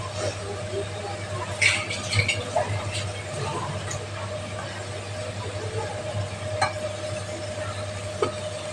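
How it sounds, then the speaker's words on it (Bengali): Fried potatoes are lifted out of a wok with scraping utensil clinks over a light sizzle and a low steady hum, while a voice talks in places. "তো আমি আলুগুলো নামিয়ে নিচ্ছি কড়াই থেকে।"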